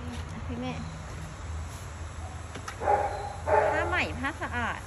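A dog barks several times in short yips and bow-wows, some whimpering, fairly close, mixed with people talking in a clothing shop setting.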